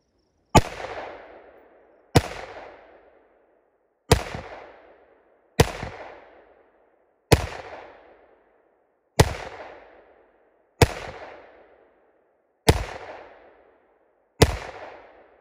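Ten sharp gunshots fired one at a time at a bulletproof wall filler panel rated UL752 Level 7, spaced roughly every one and a half to two seconds, each loud crack followed by a short decaying ring, with no talking.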